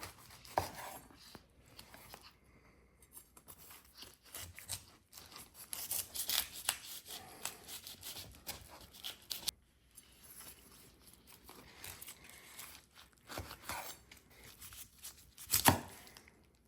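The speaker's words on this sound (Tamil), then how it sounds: "அன்னாசி பழத்தை நாங்கள் அப்படியே பாதியாக வெட்ட போகிறோம்" A knife cuts a whole pineapple in half, giving repeated close chopping and crunching strokes in uneven bursts, a sharp loud crack near the end, with quiet gaps between cuts.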